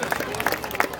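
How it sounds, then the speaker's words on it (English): A state fair crowd watching an illusionist's stage show claps in a short burst, individual hand claps audible alongside some background voices. "Give yourselves a big round of applause."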